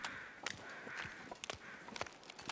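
A crow caws in the snowy wilderness of the survival game The Long Dark, several short, fairly faint calls spaced about half a second apart over quiet ambient wind.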